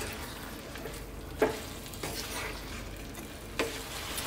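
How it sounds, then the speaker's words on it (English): Chickpeas fry in a pan for a lamb stew while being stirred almost constantly, giving a soft sizzle with a few sharp spoon knocks and scrapes. "Let's get some lovely flavours onto those chickpeas. Stirring pretty much all the time now."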